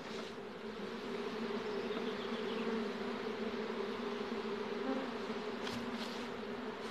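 Honey bees swarm and hum at an opened beehive, a dense, steady drone close by that holds unbroken for several seconds, with a few faint clicks late on.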